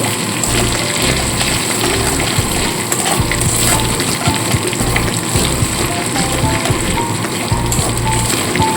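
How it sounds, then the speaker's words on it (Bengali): Ginger sizzles in hot oil for a lau shukto, with steady frying crackle and stirring scrapes while chopped potato, eggplant and beans go into the pan, close and loud throughout. "আদাটা একটু ভাজা ভাজা করে নিয়ে এর মধ্যে আমি কেটে রাখা সবজিগুলোকে অ্যাড করে দেবো"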